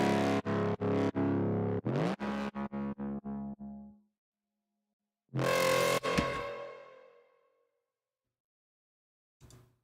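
Synth notes from the Vital synthesizer ring out with a reverb tail: a run of loud, evenly rhythmic chord stabs that die into a lingering wash, then after a pause a single bright hit that decays slowly, with a short burst at the end.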